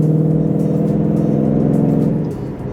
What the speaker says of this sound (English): You can hear it. You can hear that supercharger. It's loud.